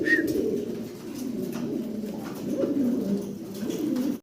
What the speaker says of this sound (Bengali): ভিডিও স্ক্রিনে খুব চমৎকার এক জোড়া শ্যালো কবুতর আমরা দেখতে পাচ্ছি